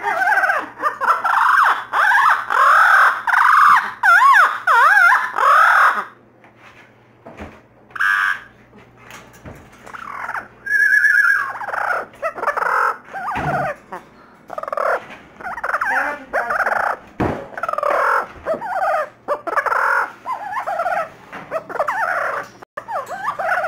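A pet bird squawks loudly and repeatedly in the morning, in harsh gobbling bursts that go on almost without pause, close and dominant throughout.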